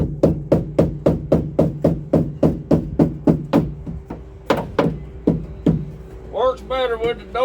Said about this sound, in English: and then you got to tap this piece down